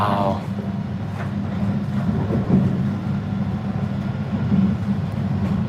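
A Shinkansen high-speed train runs through the countryside of northern Japan near Akita, heard from on board as a steady, even rumble and rush that continues throughout with no pauses.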